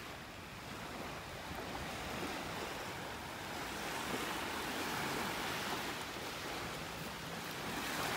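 Surf rolls onto a beach in North Naples, Florida, a continuous broadband wash of waves with gusting wind buffeting the microphone, steady and fairly faint, with no voices.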